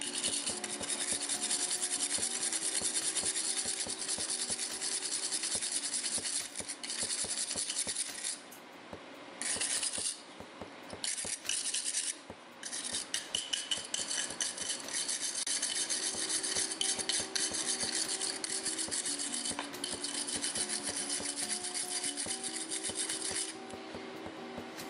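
A bristle brush scrubs a used spark plug clean, a steady close raspy scratching that keeps up almost throughout, briefly lightening into choppier strokes partway through before resuming its even scouring.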